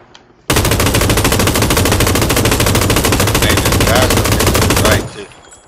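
Automatic gunfire in PUBG, a battle royale shooter, rattles in one loud, sustained burst of about four and a half seconds. The rapid shots are very close and fire at a steady rhythm, then the burst cuts off abruptly.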